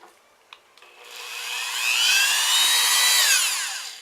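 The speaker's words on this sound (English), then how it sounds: "So 2mm drill bit using the Dremel tool." A small high-speed Dremel rotary tool with a 2mm drill bit spins up with a couple of clicks, then whines loudly as it bores, pitch sweeping and wavering throughout.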